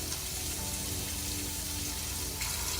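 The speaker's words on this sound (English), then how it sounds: "But the water's still running." Hot water runs steadily from a faucet in an RV camper, a close, continuous hiss and splash that holds even throughout.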